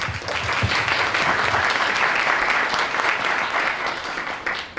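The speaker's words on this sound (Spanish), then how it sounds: "Un fuerte aplauso para él, por favor." A room full of people clapping steadily: dense, even applause held for several seconds before tapering slightly at the end.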